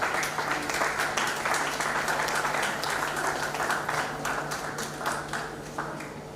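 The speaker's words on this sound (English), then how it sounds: "Please let us give a round of applause as she comes forward." An audience at a Nigerian export promotion council event in Cross River State claps as a speaker comes forward, with brisk, crowded applause over a steady low hum that eases slightly near the end.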